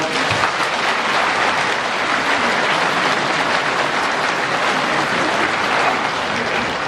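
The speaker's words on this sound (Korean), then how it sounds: "큰 박수 부탁드립니다" A large crowd claps at an ordination celebration in the Jeju diocese, producing loud, dense and even applause that holds steady throughout without any talking.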